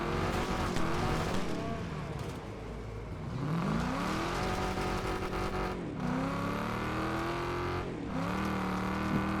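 Race car engine in Wreckfest 2, roaring and revving near and loud with shifting pitch, broken by tire squeals as the car slides, plus brief commentary.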